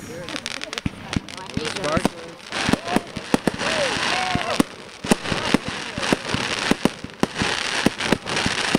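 Backyard fireworks show bursting in rapid, irregular bangs and crackles, loud and close, with occasional whistling streaks and a continuous crackle under the explosions.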